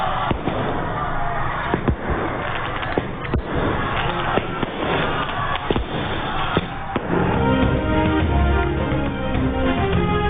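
Fireworks and aerial firing in a private housing society in Harbanspura, Lahore, a dense, continuous crackle of rapid bangs and pops that builds into a heavier, thicker barrage toward the end, loud throughout.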